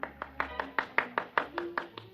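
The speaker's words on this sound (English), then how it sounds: "there was a smattering of applause like a matinee just before they closed the show" A golf gallery gives a thin smattering of applause: about ten distinct, evenly spaced claps, quiet and slightly distant, with a faint murmur beneath.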